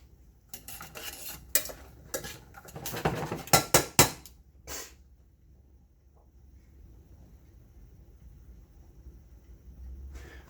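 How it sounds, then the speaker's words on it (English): A metal pot lid clatters and clinks as it is set back onto a pot of boiling soba noodles, a burst of sharp rattles and knocks over a few seconds, then a low steady bubbling hiss, close by with no talking. "I'm going to put my top back on so that it comes back up to a boil as fast as possible."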